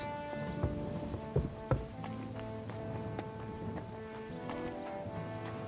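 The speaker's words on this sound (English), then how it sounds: "Looks like a bloody expensive horse." Horse hooves clip-clop along in Kingdom Come Deliverance 2, a steady walking rhythm of soft hoof taps with a few sharper knocks, set against a sustained tonal game ambience.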